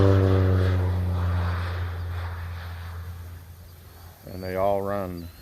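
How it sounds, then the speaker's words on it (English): Propeller airplane droning overhead near a backyard hen flock, a strong steady engine hum that fades slowly over several seconds, with a person speaking over its tail end. "That was an airplane."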